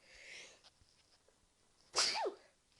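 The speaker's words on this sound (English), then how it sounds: "that was an intense sneeze" A single sharp, loud sneeze bursts out near the end, preceded by quiet breathing and faint background noise.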